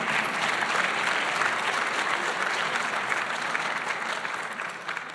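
Steady, dense applause from an audience at a community award presentation ceremony, continuous clapping that slowly tapers near the end.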